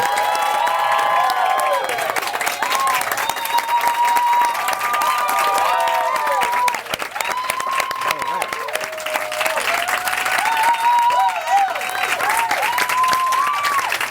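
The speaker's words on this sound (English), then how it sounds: "that applause might be better than the one we received at the Academy Awards" A large audience at a film event applauds and cheers a guest taking the stage, sustained loud clapping with shouts and whoops rising above it throughout, with voices mixed into the crowd noise.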